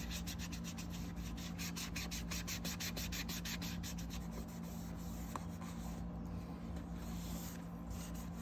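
The plastic cover of a solar light is rubbed with Flitz polish, making a steady back-and-forth scrubbing with rhythmic strokes that soften into a continuous hiss, close and with no talking.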